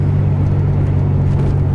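Interior drone of a moving car picked up by a mounted Sony AS20 action camera: a steady low rumble and whir, loud and unbroken, with no voices.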